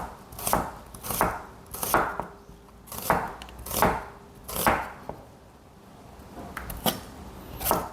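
A knife chops half an onion on a cutting board: a rapid run of crisp, close thuds, about eight, pauses briefly, then a few more chops follow, with no talk.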